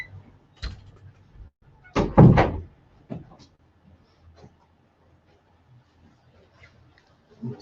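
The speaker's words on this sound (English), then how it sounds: "Might as well close that door so we don't get any noise." Someone closes an indoor door to keep out noise during a home preparedness session. A few soft bumps and handling sounds are followed by one solid thud as the door shuts, then quiet room tone.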